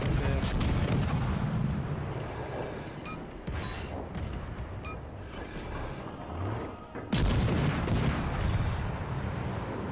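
Heavy naval gunfire and shell explosions from a World of Warships battle, dense rumbling booms layered continuously with loud salvos near the start and again later, and a voice briefly heard over the din.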